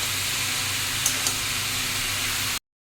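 Bottle gourd pieces fry in hot oil, giving a steady, close sizzling hiss broken by two small clicks before it cuts off abruptly.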